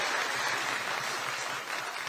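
A Korean political party gathering's audience applauds, with dense, steady clapping from a large crowd filling the room without pause.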